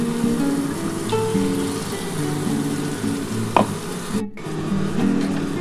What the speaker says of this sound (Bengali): এই মশলার জলটা আমি দিয়ে দিচ্ছি।